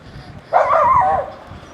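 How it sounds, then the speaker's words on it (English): A neighborhood dog on a quiet early-morning street in Merida, Mexico, lets out a single short bark or yelp, fairly close, over faint background hum. "Here are the neighborhood dogs."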